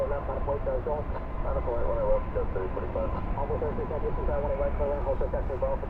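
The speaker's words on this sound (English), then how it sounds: "good takeoff" An airplane taking off at Dallas/Fort Worth International Airport, a steady distant engine roar running throughout, with a voice talking over it.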